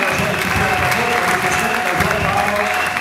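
Steady applause and cheering from a large crowd at a public gathering, dense and continuous throughout, with raised voices mixed into the clapping.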